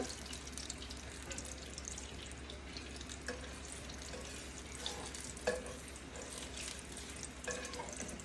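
Steady frying sizzle in hot oil with occasional stirring clinks and soft scrapes, close and continuous, no voices.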